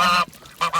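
A goose honking during mating season, two loud, close, nasal honks separated by a short pause, with no talk over them.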